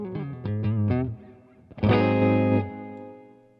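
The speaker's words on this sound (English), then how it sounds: "This is the neck pickup clean with a little reverb through my red plate amp." A Fodera Emperor custom electric guitar on its neck pickup, played clean with a little reverb through a red plate amp: a quick run of plucked notes, a pause, then a ringing chord left to sustain and decay.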